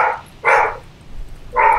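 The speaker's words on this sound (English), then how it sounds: "Your dog is just going mad." A dog barks madly in three loud, close, sharp barks spaced apart, with a faint low background hum between them.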